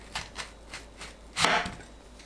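A knife cuts an onion into thick 1.5 cm rounds on a board, giving a few sharp, close chopping strokes spaced apart, with a louder, longer slice near the end.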